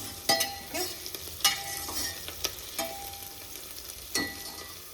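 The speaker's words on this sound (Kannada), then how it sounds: "1-2 ಮಿನಿಟ್ಸ್ ಆನಿಯನ್ ಎಲ್ಲ ಸ್ವಲ್ಪ ಫ್ರೈ ಆದಮೇಲೆ ಚಿಲ್ಲೀಸು ಹಾಕೊತಿದ್ದೀನಿ." Onions and chillies fry in a pan for biryani, giving a steady close sizzle broken by sharp scraping and clinking stirring strokes at irregular intervals, with no voices.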